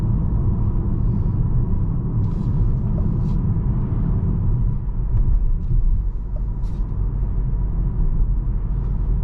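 A 2023 BMW X1 28i accelerating, heard from inside as a steady low engine rumble with road noise, continuous and fairly loud, a few faint clicks over it.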